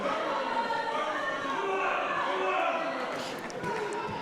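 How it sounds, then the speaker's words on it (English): Spectators at a youth boxing match make a loud, steady crowd roar of cheering and shouting voices that fills the arena, with a commentator talking over it. "Plenty of noise coming from the crowd."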